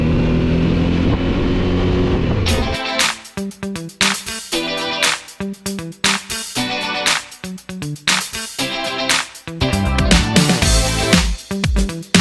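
A vehicle driving on the road in Tombstone and along the Dempster, a loud, steady engine and road roar that starts low and constant, then turns choppy with rapid surging pulses for the rest of the ride.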